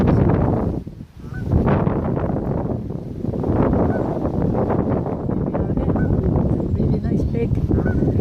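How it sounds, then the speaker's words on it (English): Large birds call outdoors on a windy nature walk, with several honking goose-like cries heard faintly through steady, heavy wind noise on the microphone. "And some really nice big birds."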